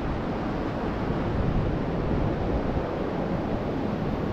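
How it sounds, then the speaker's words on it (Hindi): River water flowing beneath a bridge near Chitkul in the Himalayan valley, a dense, even roar of rushing water with no pauses, heard close and alone. "ब्रिज के पास आपको पानी तो आवाज़ आ रहा होगा"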